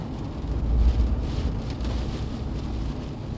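Strong wind gusts from Hurricane Debby on St. Simons Island roar and buffet the microphone in a heavy low rumble that swells early on, then stays steady, with no voices.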